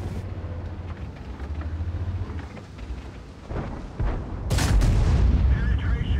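A T30 tank's 155mm gun fires in World of Tanks, a single loud, deep boom that breaks out near the end over a low rumbling battle backdrop, with other muffled blasts earlier.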